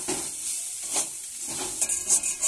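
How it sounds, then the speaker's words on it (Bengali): Egg frying in a wok while cooking veg chowmein, a soft steady sizzle with light scraping and stirring strokes, close and fairly quiet. "এখানে ডিমটা ভেজে নিচ্ছি আবার সেই কড়াতে"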